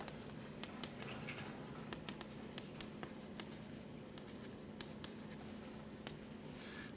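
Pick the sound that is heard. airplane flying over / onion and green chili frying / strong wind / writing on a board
writing on a board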